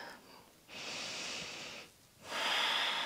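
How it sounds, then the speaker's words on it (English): Two slow, deep breaths during a yoga exercise for injured knees, a long airy exhale followed by a pause and another strong breath, close and clear with no talking. "breathe. And 1 more breath."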